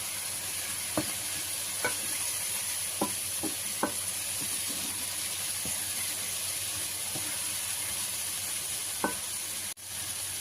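Milkfish dropped into a pot with smashed tomatoes for sinigang sizzles in a steady, soft hiss, broken by a few faint scattered clinks and taps from stirring, close by with no talk.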